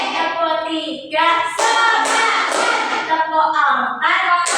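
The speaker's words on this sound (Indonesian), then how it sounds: "Tepuk siap belajar." Children in a classroom clap routine, with bursts of rhythmic hand clapping between spoken and chanted phrases, close and fairly loud, and a voice leading the count.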